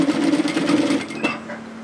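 A sewing machine stitching the underarm and sleeve seam of a shacket, a loud close rapid mechanical whir that runs steadily and then eases slightly.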